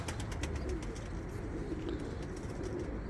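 Soft cooing of a pigeon outdoors at a bird seller's in Yozgat, Turkey, faint and low against a steady background hum.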